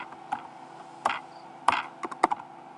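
Someone types on a computer keyboard in irregular bursts, with crisp, close clicks separated by short pauses and a few quick double taps.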